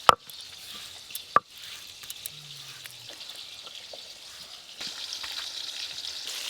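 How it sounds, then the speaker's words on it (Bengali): Rohu fish pieces frying together in a pan of oil, a soft, steady sizzle with scattered crackles and a couple of sharp clinks near the start, fairly quiet and close. "যা মাছ আছে এগুলো সব একসঙ্গে ভাজা হয়ে যাবে"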